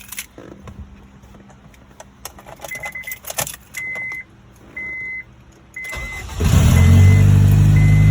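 Keys jingle, a chime beeps several times, then the engine of a 2002 Acura RSX Type S with an idle surging fault cranks and roars to life nearby, settling into a loud, steady idle.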